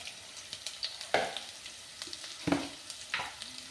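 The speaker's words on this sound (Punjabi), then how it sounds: "ਤੇਲ ਆਪਣਾ ਗਰਮ ਹੋ ਚੁੱਕਿਆ ਜੀ ਪਹਿਲਾਂ ਆਪਾਂ ਜੀ ਵਿੱਚ ਐਡ ਕਰਤਾ ਲਸਣ ਥੋੜਾ ਜਿਹਾ ਪਾ ਦਾਂਗੇ ਜੀਰਾ" Garlic and cumin seeds dropped into hot oil, frying for a chilli chutney, with light crackling sizzle, a few sharper pops and stirring clatter, close and moderately quiet with no voices.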